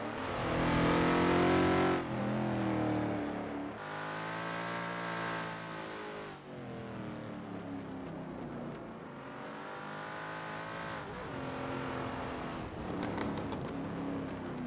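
A Lola T70 MkII Spyder race car on a practice out lap at Kyalami in 1967, its engine revving up through gears in repeated loud accelerating sweeps with gear-change drops between, close and alone.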